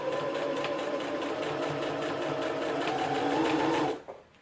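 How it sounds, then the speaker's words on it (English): A sewing machine stitches through quilted fabric with a steady, close mechanical whir for about four seconds, then stops abruptly. "you can start stitching. And I just stitched just inside the that fold"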